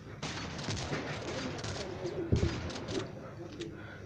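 A shotgun fires in the Modern Strike Online shooter game, with a sharp blast standing out over a dense, continuous wash of in-game noise.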